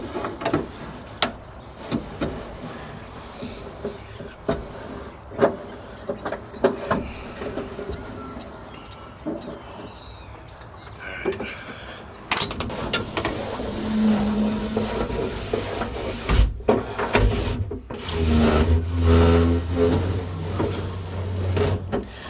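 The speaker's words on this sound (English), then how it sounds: "Now I'm just lowering it back down, trying to get all that back in the gears, then raise it back up." A Chevy K5 Blazer tailgate being lowered and raised, giving irregular mechanical clicks and knocks followed by a louder grinding, humming stretch near the end, close by with no talking.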